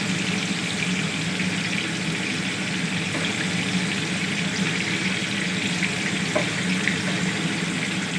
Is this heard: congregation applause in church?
no